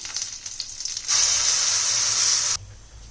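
Ground paste for a kurma side dish hits hot sesame oil with mustard seeds and curry leaves, bursting into a loud, steady sizzle for about a second and a half before cutting off sharply, with quieter frying on either side.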